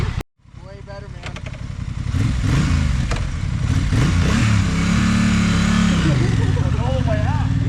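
A Honda TransAlp XL750 motorcycle starts up, revs and rides off, its engine note rising and falling loud and close as voices talk and shout nearby.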